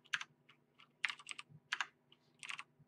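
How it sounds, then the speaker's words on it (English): Computer keyboard keys clack in quick, uneven bursts as a file path is typed, about a dozen close, crisp keystrokes with short pauses between groups. "we're going to actually go ahead and type out our full path to that resource"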